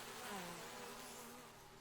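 Bees buzzing in the Farthest Frontier village-building game, a soft steady drone of wings from several insects, quiet and continuous.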